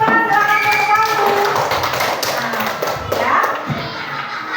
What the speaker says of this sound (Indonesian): Sekali lagi boleh kasih tepuk tangan buat Risma